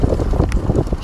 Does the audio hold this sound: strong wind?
yes